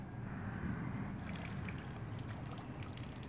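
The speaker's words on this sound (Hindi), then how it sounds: "तो आप देख सकते हैं कि इसमें से पानी अच्छी तरह से फ्लो हो रहा है।" Water runs out of the AC drain pipe of a Maruti Swift or Dzire car, a quiet, steady trickling flow close by with no talking.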